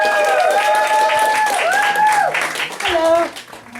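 Audience at a Spoken Word London poetry night applauds poet Rebecca Cooney, a steady wash of clapping for nearly four seconds with a few voices or cheers rising over it before it thins out.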